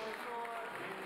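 Crowd applause greeting Pope Francis for the Holy Thursday Mass at the Velletri prison, a faint, distant patter of clapping heard continuously beneath someone speaking.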